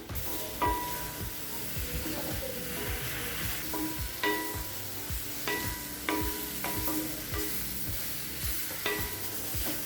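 Mushrooms sauté with chili powder in a pan for mushroom masala, giving a steady close sizzle broken by repeated rhythmic scrapes and taps of a spoon stirring throughout.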